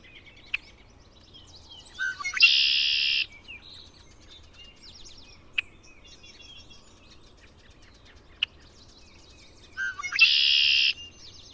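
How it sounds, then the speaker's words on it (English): Red-winged blackbird in a tree beside a pond, giving two loud buzzy calls several seconds apart, with scattered faint chirps and ticks between them against a quiet outdoor background. "A red-winged blackbird."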